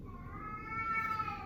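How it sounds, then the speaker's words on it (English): A domestic cat meows in one drawn-out, rising and falling cry, fairly close and moderately loud over a low background hum, with no talk. "My cat is going nuts."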